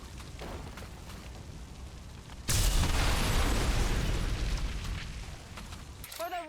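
Loud explosions erupt abruptly in the XCOM 2: War of the Chosen strategy game, a heavy booming blast with a long rumbling tail that slowly decays, preceded by quieter clatter, and a voice speaks briefly at the very end.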